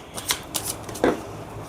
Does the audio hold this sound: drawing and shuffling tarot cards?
yes